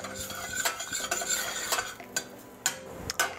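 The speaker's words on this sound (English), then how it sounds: "we're just gonna sweat these down over medium heat until they're translucent and tender" Shallots cook in butter with kosher salt in a pan over medium heat, a quiet simmering sizzle broken by several close, sharp metallic clinks of a utensil against the pan.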